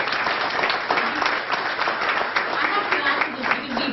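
Audience applauding at a startup conference presidents' reception, with steady, dense clapping filling the room throughout and no break.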